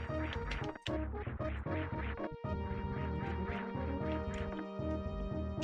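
Rhythmic honking calls of a goose sit on top of a loud backing track of music and recur in a steady bouncing pattern, with a short break partway through.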